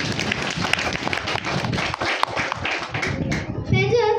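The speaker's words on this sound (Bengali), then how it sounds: "নিতু গাইনের জন্য জোরে একটা হাততালি" Applause at a school cultural program for a second-grade girl's recitation: a burst of hand clapping from a group of children and adults, mixed with chatter and a brief musical tone at the end.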